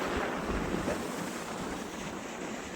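Sea waves crash against rocky shore near a coastal statue site, a steady loud roar of surf and spray with wind buffeting the microphone throughout, and no voices.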